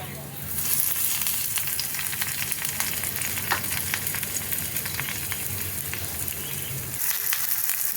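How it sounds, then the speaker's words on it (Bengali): Eggs wrapped in pumpkin leaves fry in oil in a kadai, giving a loud, dense, continuous sizzle and crackle that rises at the start and holds steady throughout. "সবগুলো রেডি হয়ে গেছে, আমি কড়াইতে দিয়ে দিয়েছি।"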